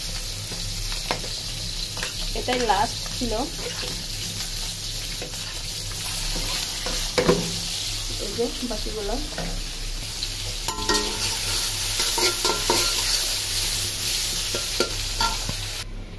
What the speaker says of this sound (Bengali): মাছ ভাজার তেলে আমি পেঁয়াজটা ছেড়ে দিলাম